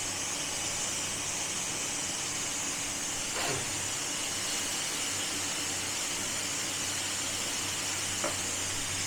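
Onions for Bengali fish head curry (katla mach muro) fry in a pan with a steady, close hiss and sizzle, constant throughout, with a couple of faint clinks of stirring.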